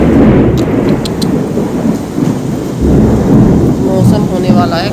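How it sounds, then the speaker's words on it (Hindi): Thunder rumbles loudly through a windy night storm with heavy rain falling, a steady roar of wind and rain with deep rolling booms throughout. "बिजली कड़क रही है।"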